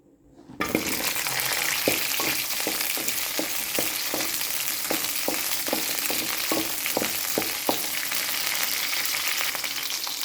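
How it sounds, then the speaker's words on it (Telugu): Ten to twelve green chilies hit hot oil in a pan for gongura chutney, and a loud, continuous frying sizzle starts at once, broken by a regular run of light stirring taps. "మళ్ళీ ఆయిల్ వేసి ఆయిల్లో ఒక కట్ట కోసం పది పన్నెండు పచ్చిమిర్చిని వేయించుకుందాం"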